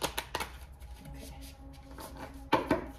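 Tarot cards are riffled and shuffled in a few quick bursts, with soft flicking and slapping sounds separated by short pauses.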